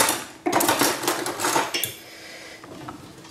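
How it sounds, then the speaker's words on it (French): A spoon scrapes and clinks inside a pot of cooked lentils while scooping. It makes a loud, close metallic clatter at first, then softer scraping that fades out, and nobody speaks. "Je vais prendre une cuillère et vous les montrer."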